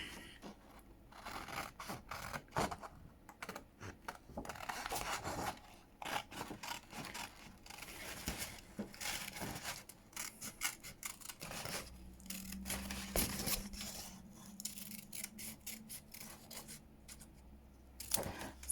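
Scissors snip and scrape through a paper picture from a butterfly craft kit, a steady run of close, quiet cuts and rustles with no talking.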